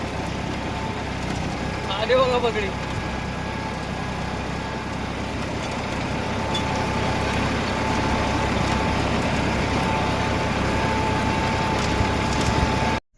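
A farm tractor's engine runs steadily at close range, a continuous drone throughout, with people talking over it.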